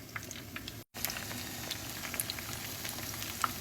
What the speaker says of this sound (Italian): padella, olio a piacere per friggere e andiamo a friggere